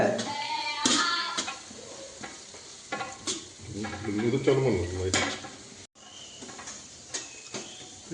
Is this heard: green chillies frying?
yes